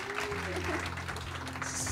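An audience at an onsite seminar event claps briefly in a dense patter, with a voice or tone running underneath.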